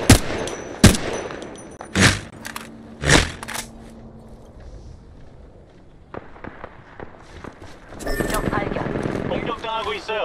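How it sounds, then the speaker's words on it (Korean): Gunfire in a video game: several sharp, loud shots in a ragged cluster early on, then scattered quieter pops and a dense burst of firing near the end, with talk in between. "사격 중."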